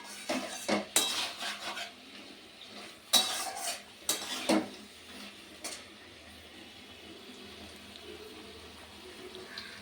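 Palak shaak ghonto, a Bengali spinach curry, is stirred in a pan with a few sharp clanks and scrapes of a metal utensil against the cookware, followed by quieter, faint rustling.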